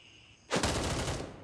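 A sudden burst of rapid automatic gunfire in the shooter game Gray Zone Warfare, a fast string of loud, close shots that rings out after a brief quiet moment.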